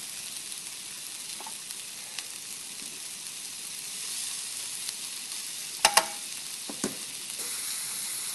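Shiitake and cremini mushrooms fry with chestnuts in a pan, giving a soft, steady sizzle with a few brief stirring clicks and scrapes.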